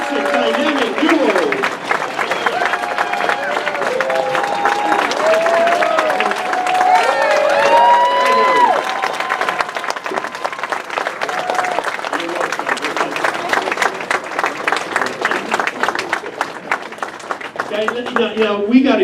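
A fan convention crowd at Steel City Con applauds and cheers for Adam West and Burt Ward, loud sustained clapping with whoops and shouts rising above it, and voices call out throughout.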